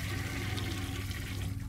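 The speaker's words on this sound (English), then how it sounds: "Because why would I have to flush all these toilets?" A toilet flushing in the horror game City of Nightmares, a close, steady torrent of rushing water that carries on without a break.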